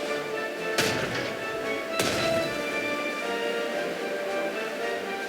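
Old artillery guns fire in the war strategy game Strategic Mind as two sharp booms about a second apart, heard over a steady background rumble with no voices.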